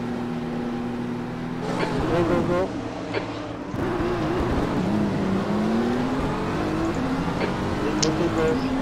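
BMW M4 GT3 race car in rFactor 2 revving at the race start, a loud steady engine drone rising in pitch as it launches, with a brief shift dip and continuous voices talking over it.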